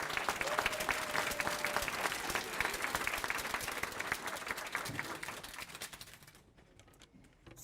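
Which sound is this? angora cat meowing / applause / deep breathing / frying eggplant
applause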